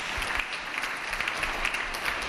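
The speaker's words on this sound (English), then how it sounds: "I appreciate that applause very much" An audience applauds at an assemblymember's swearing-in ceremony, a steady wash of clapping hands throughout, moderately distant, with no voices over it.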